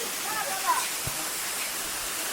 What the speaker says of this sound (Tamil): இது வழியாக தண்ணி கீழே போயிட்டுருக்கு